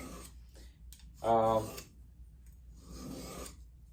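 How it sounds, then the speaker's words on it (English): A diamond Jewel Stick sharpening a Simmons knife blade gives two short, close rasping strokes, the first carrying a brief ringing squeal and the second a softer grinding rub. "That diamond edge really cuts that blade quick."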